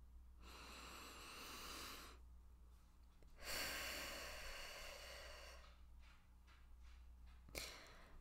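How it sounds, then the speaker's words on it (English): Someone takes slow, deep breaths, two long airy inhales and exhales and a short sharp intake near the end. The breathing is quiet and close, with no talking. "so take a deep breath with me"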